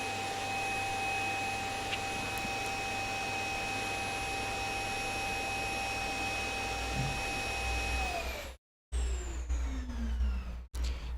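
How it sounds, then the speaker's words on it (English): A vacuum cleaner runs as a steady whirring drone with a constant high tone, then cuts off abruptly near the end, its motor pitch winding down in brief bursts. "The vacuum is gonna go off."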